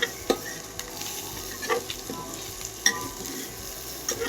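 Spiny gourd (kakrol) with garlic frying in a pan while being stirred, a close steady sizzle punctuated by a few sharp spatula taps and scrapes, with no talking.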